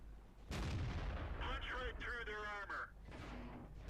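Tank cannon fire in the World of Tanks video game, a heavy booming shot followed by rumbling and mechanical game effects, loud and close, with a player's voice partly under it.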